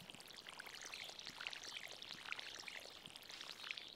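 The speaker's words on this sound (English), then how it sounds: "And time to water." Crops are watered in the video game Stardew Valley, a soft, quiet pouring and splashing stream with light droplet patter running continuously.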